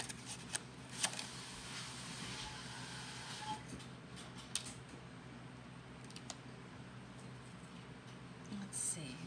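A Bicycle deck of playing cards being shuffled, giving a continuous soft riffling with occasional sharper flicks, close and fairly quiet throughout.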